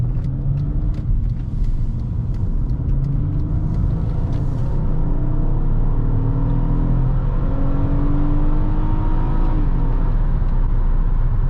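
A 2012 Honda Accord EX-L with a 3.5-liter VTEC V6 revving hard at high RPM, a loud, sustained engine roar that rises and holds with steady intensity throughout.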